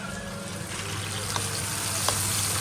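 Garlic sizzles in hot oil in a pan, with chicken about to join it, giving a steady close frying hiss with a couple of faint clicks of stirring.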